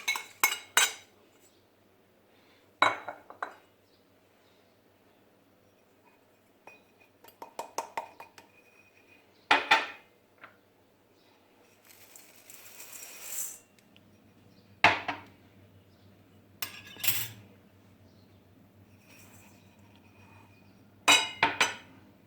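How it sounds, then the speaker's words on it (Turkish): Crumble filling ingredients being mixed in a deep bowl, heard as irregular clinks and scrapes of a utensil against the bowl, coming in separate bursts with quiet gaps between them and no voices. "İç harcı olan tüm malzemeleri derin bir kaba koyup iyice karıştıracağız"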